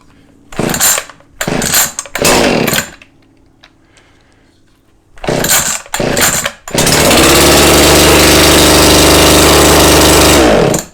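A chainsaw in a closed garage: several quick rasping pull-cord tugs, then it fires and runs at a loud, steady idle close by.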